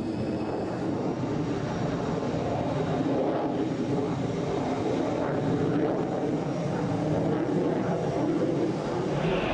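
A Mirage fighter jet flies past, a steady broadband engine roar heard from a distance that holds at a constant level throughout.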